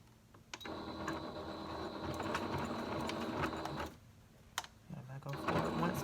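A domestic sewing machine stitches a jeans hem in steady whirring runs, broken by a short pause and a brief clack. A voice talks over the machine.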